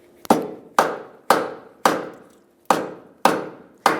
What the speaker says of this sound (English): I'm going to take a rubber mallet, first attempt, and I'm going to see if I can put that ball joint spindle right up into that knuckle